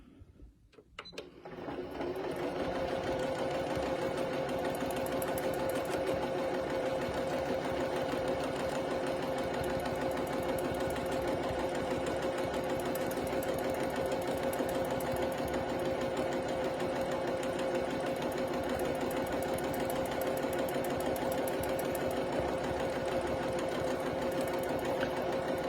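A Continental M6 quilting machine runs free motion quilting, starting after a brief pause and then keeping a fast, steady mechanical stitching hum with a rapid rhythmic tick, close and uninterrupted.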